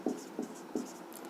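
Chalk or marker strokes tap and scratch on a board in three quick, evenly spaced bursts during a physics lesson, faint and close, with no speech.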